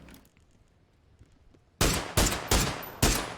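Gunfire in PUBG, four loud sharp shots in fairly quick succession after a quiet stretch of faint background game sound.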